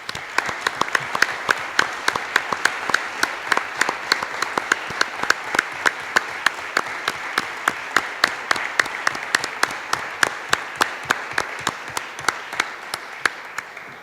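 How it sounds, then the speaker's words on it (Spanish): Audience applause fills the room at a Spanish-language talk on education, a dense, steady patter of many hands clapping at moderate distance that holds evenly for about fourteen seconds with no voices over it. "quería proponer otro aplauso para Alberto Abascal y"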